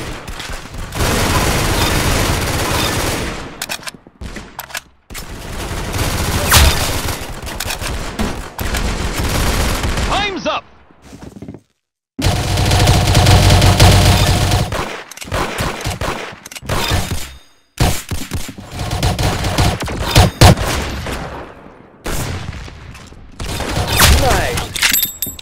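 Gunfire in the Roblox game Arsenal, with loud, dense bursts of rapid shots and sharp impacts coming in long stretches broken by brief gaps, with voices talking over parts of it.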